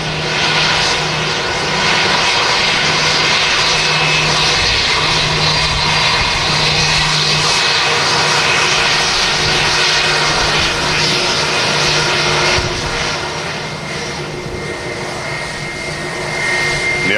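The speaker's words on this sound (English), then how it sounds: "The Etihad's already rolling." Etihad airliner rolling down the runway on its takeoff run, a loud sustained jet engine roar with a steady hum that stays strong throughout and eases slightly near the end.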